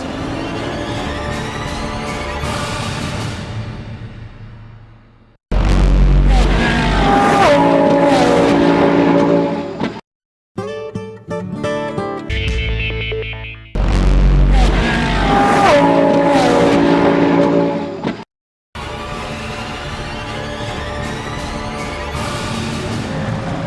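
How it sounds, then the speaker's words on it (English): GT race cars at Brands Hatch during a two-hour British GT Championship race, including a Porsche, roar loudly past in repeated close passes, engines rising and falling through gear changes, with brief gaps between cars. "And Phil Keane in the Demon Tweaks Porsche slips inside David Jones to take second."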